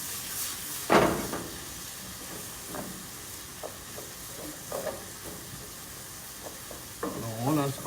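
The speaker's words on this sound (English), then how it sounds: "Now all our spices are cooking really very good." Spices for baingan bharta fry and sizzle in a pan, with a steady hiss broken by several louder stirring scrapes and spatters close by, and no talk.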